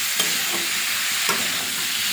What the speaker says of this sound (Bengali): এবারে ধনে পাতাটা দিয়ে আর একটু ভালো করে কষিয়ে নেব।